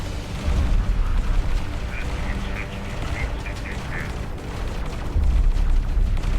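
Torpedo rounds from X4: Timelines space combat striking a target, heard as low booming impacts and rumble, with faint game tones scattered throughout and a heavier blast near the end; loud and continuous.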